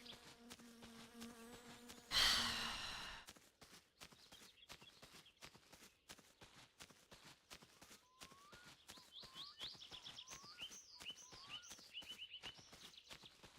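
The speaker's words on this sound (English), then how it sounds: "Primarch, how many ways are there to deal with the wasps?" Wasps buzzing in the video game My Summer Car, a faint droning hum with scattered clicks and a brief loud burst near the start, running throughout with no talk.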